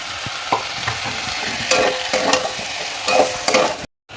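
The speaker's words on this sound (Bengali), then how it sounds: "এবার এটা দিয়ে ভালো করে কষিয়ে নেব" Spice paste of onion, garlic, ginger and green chillies with salt, turmeric and cumin powder sautéing in a pan, a steady sizzle with repeated scraping stirs of a spatula, close and clear with no talking.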